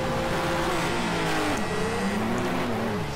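A race car engine in the video game Project Cars 2 drones loudly and steadily while accelerating away from the start, its pitch climbing and dipping with throttle changes and a wash of tire and road noise underneath.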